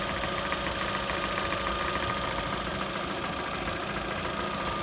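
A Lada Vesta car engine, a 129 engine, idles steadily with a persistent mechanical camshaft knocking ticking through the running noise for the whole stretch, fairly loud and close.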